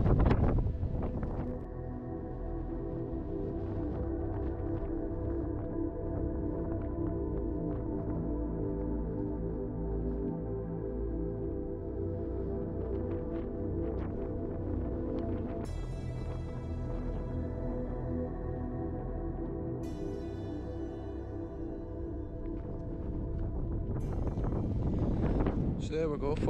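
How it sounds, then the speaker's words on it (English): Strong gusting wind buffets the microphone at a coastal clifftop war monument on the Isle of Islay, Scotland, a loud continuous low roar that swells and fades through the whole stretch with no one talking. "The wind is just honestly like 100 mile an hour gusting,"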